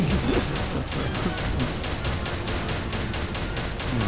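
Rapid bursts of video game gunfire crackle in a dense, continuous stream, with repeated sharp shots layered over a noisy, busy background.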